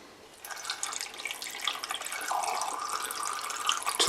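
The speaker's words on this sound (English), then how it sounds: "Top up with warm water" Warm water runs from a tap into a container, a steady close splashing hiss that builds slightly and deepens as the vessel fills.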